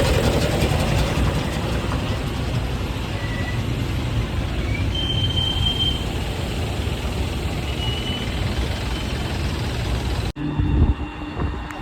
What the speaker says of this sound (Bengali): এদিকে ট্রেন আসছে এই দেখো ট্রেন মাল গাড়ি চলে গেলো